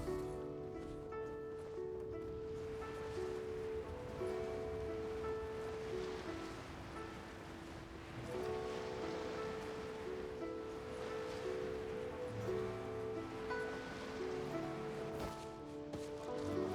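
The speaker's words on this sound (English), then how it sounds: "The sound of the waves in this familiar port." Ocean waves washing steadily at a harbor port in the game Genshin Impact, a continuous surf wash under a soft layer of tonal background music, with no voices.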